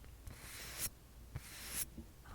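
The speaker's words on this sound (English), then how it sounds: "is the sound of brushing" Soft brushing strokes across a small object in a quiet ASMR setting, two or three broad, hissy sweeps spaced about a second apart, close and faint, with no talking.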